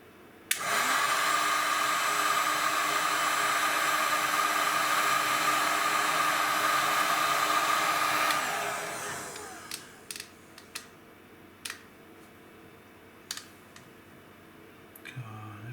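A heat gun blows with a loud, steady whirring hiss for about eight seconds while shrinking heat shrink tubing onto a spade connector, then winds down and is followed by a few faint clicks and taps.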